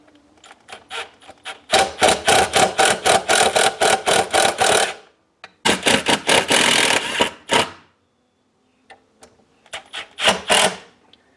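Screws with a faceplate being driven into a 240-volt EV charger outlet, heard as close, loud bursts of rapid ratcheting driver clicks in three runs separated by short pauses.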